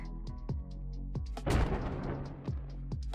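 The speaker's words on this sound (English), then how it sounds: "Why does it have a death sound effect on the creature?" A crunchy, gunshot-like creature death sound effect from a video game in development bursts out mid-clip, set among a regular series of sharp, deep thumps.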